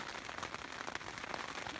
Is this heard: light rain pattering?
yes